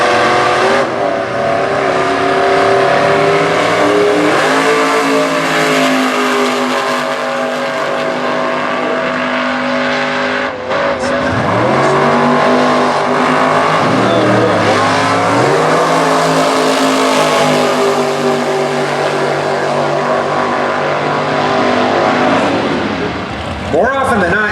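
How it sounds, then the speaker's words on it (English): A 2000 Chevrolet Corvette makes a drag racing run, with a loud engine howling and rising through repeated gear changes, sustained and close throughout. "2000 edition Chevrolet Corvette."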